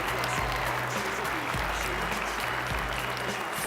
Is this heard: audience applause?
yes